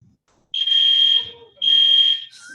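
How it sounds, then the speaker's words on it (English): A fire alarm goes off in a room, sounding two long, loud, steady electronic tones separated by a short gap, with faint room noise between. "You guys just had a fire alarm?"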